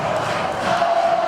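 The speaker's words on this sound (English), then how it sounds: "And now the crowd is going crazy." A high school basketball crowd roars loudly inside the gym in a brief, dense burst of cheering and yelling.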